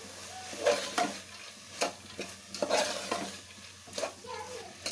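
Green gram gravy masala frying in a pan while a spoon stirs it, soft sizzling broken by repeated scraping strokes at an uneven rhythm, fairly quiet and close.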